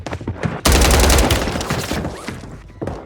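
Automatic gunfire rattles in a Call of Duty Resurgence match on Rebirth Island: a loud, close burst of rapid shots runs for about a second and a half, then fades to scattered, quieter shots.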